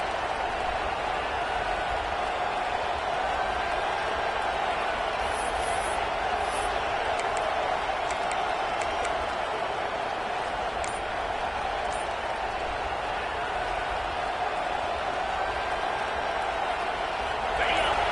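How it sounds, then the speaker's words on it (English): Stadium crowd noise in an American football video game, a steady loud wash of roaring spectators that holds without a break, with faint whistles and cheers rising above it. "This crowd going to try to make life miserable for these guys."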